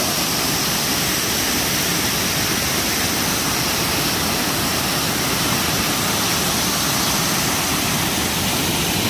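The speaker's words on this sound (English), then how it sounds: "So that's Dickerson Creek Waterfall." Dickerson Creek waterfall roars in a continuous, dense broadband rush of falling water, loud and close from start to finish, with no voices.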